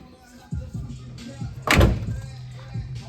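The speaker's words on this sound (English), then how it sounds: "Let's close this door so no one gets decapitated by the door." A car door on a Nissan 350Z in a garage is swung shut with one solid thunk after a few light knocks and rattles, close and loud, with a little background noise.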